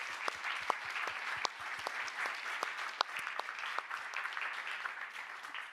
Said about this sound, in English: let's give a big applause for our guests.